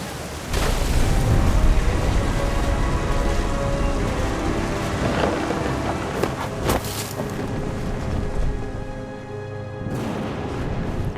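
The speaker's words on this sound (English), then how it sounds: "The thunder sounded much too close and full of angry power." Heavy rain pours steadily through a thunderstorm in the game What Remains of Edith Finch, with rumbling thunder and sharp crackling bursts standing out over the loud, constant downpour.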